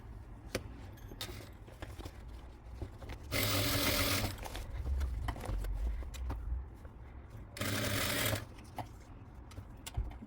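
Sewing machine stitching the seams of a fabric bag, running in two loud, steady bursts of a few seconds each against quiet room noise, with softer handling sounds in between.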